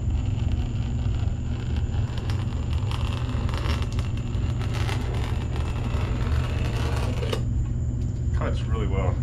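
Material being cut for a jon boat conversion: a loud, rough, continuous cutting noise with rhythmic bursts, easing off near the end as a person talks.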